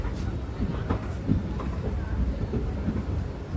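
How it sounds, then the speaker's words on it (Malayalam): A train, the Rameswaram–Chennai Boat Mail Express, rolls into Karaikudi railway station with a steady rumble and faint rail clatter; voices are heard under it. "ട്രെയിൻ ഇതാ കാരക്കുടി റെയിൽവേ സ്റ്റേഷനിലേക്ക് എത്തിയിരിക്കുകയാണ്"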